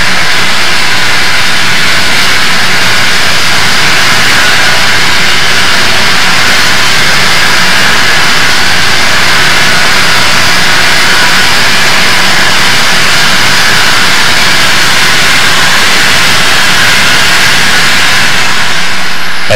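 Cab forward steam locomotive 4274 working at full throttle around the big curve at Blue Canyon on the Donner Pass mainline, a loud, continuous broadband roar holding steady throughout with no talk.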